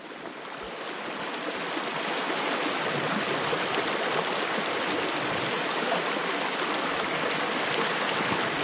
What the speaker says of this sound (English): certainly sounds like a river